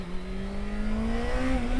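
A motorcycle engine revs steadily upward, its pitch climbing smoothly over a couple of seconds, loud and close with no voices.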